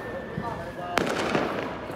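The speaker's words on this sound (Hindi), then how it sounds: "नीचे पटाखा जल रहा है" Firecrackers set off below at a lively street celebration welcoming Shri Ram: one sharp, loud crack stands out against a dense crowd murmur, with people talking throughout.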